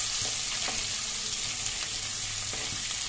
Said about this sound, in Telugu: పచ్చిమిర్చి వేస్తున్నానండి వేగాక ఉల్లిపాయలు వేద్దామండి